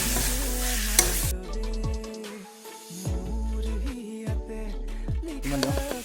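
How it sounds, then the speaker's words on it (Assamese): Meat sizzles in a pan with spice paste while being stirred at a village kitchen in Assam, with bright frying crackle under repeated scraping strokes of a spoon against the pan. No one talks. "এতিয়া আমি একেবাৰে গোটেই মাংসখিনি ঢালি দিওঁ"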